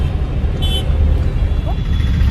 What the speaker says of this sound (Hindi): आगे बहुत ट्रैफिक है